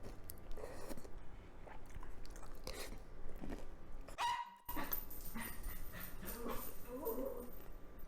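A dog barks a few times in a home kitchen while banana eggrolls are being made, with sharp, short barks over kitchen clatter, crunching and intermittent talk.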